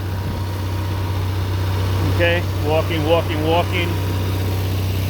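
Onan generator engine idling steadily with a low, even hum, heard close up, while someone speaks briefly over it.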